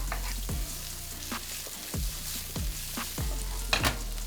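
Vegetables frying with softened onions in a pan, a steady sizzle broken by repeated scraping stirs at regular intervals, close and fairly loud, with no talking.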